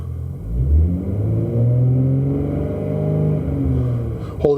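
A Ford engine idles with its RPM held up during smart alternator testing amid a charging system fault, a steady close mechanical hum with someone talking over it.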